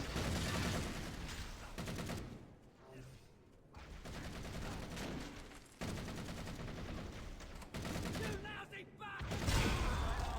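Rocket launcher fire in a modded Halo singleplayer game: a dense, continuous barrage of loud booming shots and blasts in bursts across the whole stretch, with brief lulls between volleys.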